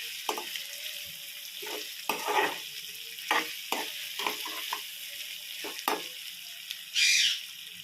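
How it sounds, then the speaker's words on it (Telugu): Green chillies and other egg curry ingredients fry gently in oil, a low soft sizzle broken by repeated spoon stirs and scrapes against the pan, close and moderately quiet, with no voices. "వీటిని లైట్గా వేగనివ్వండి కొంచెంసేపు వేగనివ్వాలి లైట్ బ్రౌన్ కలర్ వచ్చేదాకా వేగనివ్వండి"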